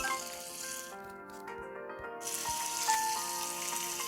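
Steady frying sizzle, a constant crackling hiss from hotteok (Korean filled pancakes) in hot oil, close by, with a few faint clinks and a brief dip in the sound.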